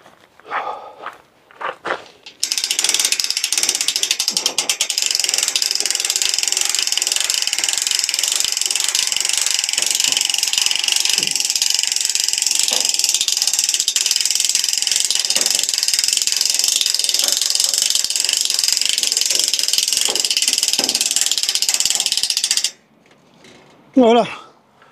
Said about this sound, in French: Je mets le cliquet.